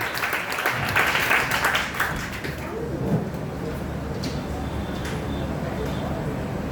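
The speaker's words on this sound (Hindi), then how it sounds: "तालियों से इनका स्वागत करते हैं।" At a scholarship distribution ceremony, an audience applauds to welcome a student recipient, clapping strongest at first and then thinning into murmuring crowd noise.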